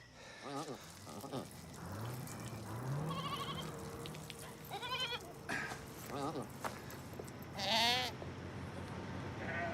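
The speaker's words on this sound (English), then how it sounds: "Goddamn goats" Goats bleat repeatedly over a busy background of murmuring voices and rustling, some calls close and loud, others fainter.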